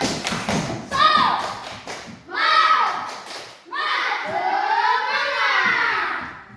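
Children in a classroom perform a rhythmic spirit clap, with bursts of patterned clapping mixed with loud chanting voices in three phrases, close and energetic.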